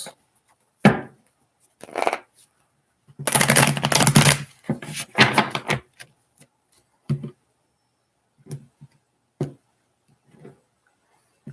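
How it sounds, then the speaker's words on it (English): Tarot cards being shuffled during a casual reading, heard as a burst of riffling and soft slapping card sounds near the microphone, followed by a few scattered taps and light clicks in otherwise quiet surroundings. "You have 2 more shuffles, Eleni"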